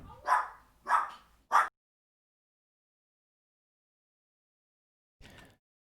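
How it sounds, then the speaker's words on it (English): A dog indoors at home barks three times in quick succession, moderately close, followed by silence and one shorter, fainter bark a few seconds later. "Uh-oh, dog's barking again."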